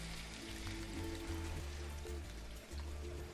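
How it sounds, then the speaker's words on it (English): Liquid pours steadily into a paella pan in a continuous, fairly quiet wash of splashing and trickling that runs without a break and without voices. "You can pour the whole thing in the middle"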